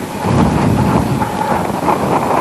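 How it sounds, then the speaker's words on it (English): Wind gusting across microphones in a nearly empty athletics stadium before a 100 m race, a loud low rumbling buffet that swells and wavers continuously with no voices. "Gusts of wind echoing off the microphones."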